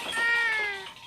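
A cat gives a single short meow, rising then falling, close and clear against a quiet indoor background.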